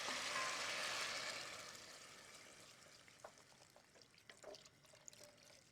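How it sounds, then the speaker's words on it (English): Water is poured into a pan of braised pork belly, a soft splashing rush that tapers into faint trickles and small drips, quiet and close. "Now we'll add enough water just to cover all the pork."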